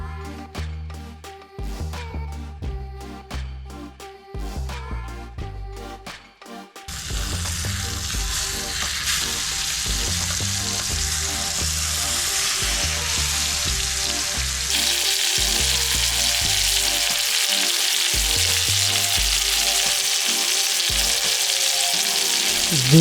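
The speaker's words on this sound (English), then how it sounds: "Now we're going to add our pork chops to the butter and the oil. We're going to brown them on both sides" Pork chops fry in butter and oil, starting with clattering handling and bursts of sizzle, then settling into a loud, steady, close spitting sizzle that swells further midway through, with no voices.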